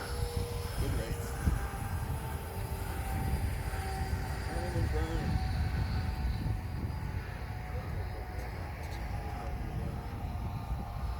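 An E-flite F15 RC jet passes overhead on its maiden flight, its steady engine whine holding for the whole stretch while a faint voice sounds in the background.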